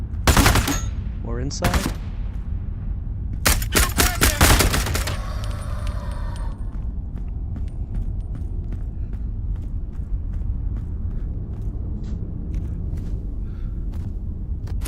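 Automatic gunfire in the shooter game Into the Radius 2, with loud bursts early on, then sparse shots and clicks over a steady background, and a brief spoken line partway through.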